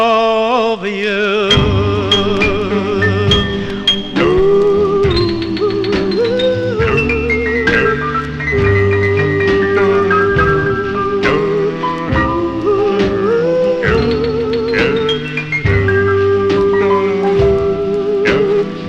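A 1957 Flash Records doo-wop single, played from vinyl: a steady band backing with lead vocal and harmonies, loud and continuous throughout.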